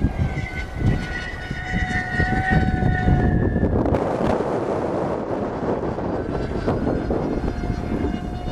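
A SkyFighter v3 model plane passes overhead with a jet-like roaring whoosh, droning with a whining tone and then swelling into broadband rush mixed with wind buffeting the microphone.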